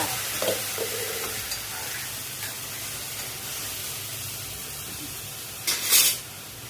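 Hot oil sizzles steadily at close range as mustard and cumin seeds are tempered, with a brief stir partway through and a sharp burst of crackling sizzle near the end.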